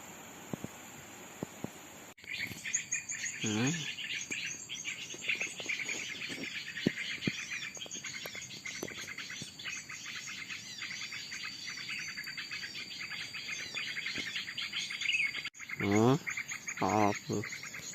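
A small wild collibri bird calls outdoors over a steady, dense hiss of insects and crickets, with a couple of clear sweeping chirps near the start and again near the end.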